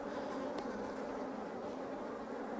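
Honeybees buzzing at an open hive: a dense, continuous buzz from many bees close by, steady in level with no talking.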